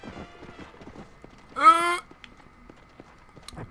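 A horse in Red Dead Redemption clip-clops at a walk, a faint run of soft hoof taps broken by a short, loud whinny near the middle, all under quiet game ambience.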